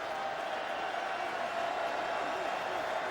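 An NFL stadium crowd of Cowboys and Titans fans produces a continuous broad roar, moderately loud and even from start to finish, with a few indistinct voices mixed into the din.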